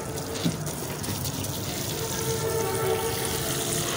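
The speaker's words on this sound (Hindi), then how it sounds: "चले ईसा इस तरफ भी दें पानी।" Water splashes steadily from a hose or can onto potted garden plants, a continuous close gushing with a brief splash near the start.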